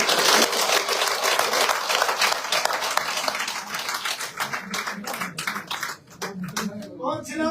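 Applause from an audience at a political gathering in Jammu, a dense wash of clapping throughout that thins and breaks up toward the end, with a speaker's voice over it.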